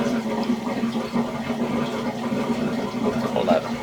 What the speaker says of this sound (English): You can hear my my dishwasher upstairs draining.